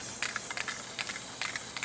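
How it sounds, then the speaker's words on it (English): Spray paint can releasing short hissing bursts, several quick sprays in an irregular rhythm, close and fairly loud with no talking. "If you're using spray paint, please make sure that you're not too close."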